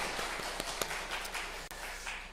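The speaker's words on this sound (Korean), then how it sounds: "네, 박수 한번 해주시죠." A church congregation applauds during a Sunday worship service, a soft, diffuse patter of many hands clapping at a distance, fairly faint and steady for a couple of seconds.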